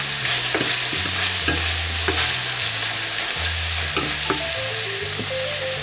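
Potato mixture with cayenne and black pepper stirred in an oiled pan, a steady close sizzle and fry broken by scraping strokes of the spoon every second or so, with no talk.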